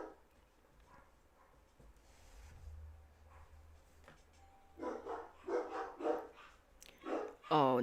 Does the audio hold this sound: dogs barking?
yes